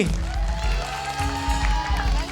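Studio audience applauding Ibu Susi on an Indonesian TV show, a dense wash of clapping and crowd noise with some cheering, steady and loud throughout, with a low hum underneath.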